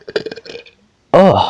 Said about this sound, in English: Oh, that was a big burp.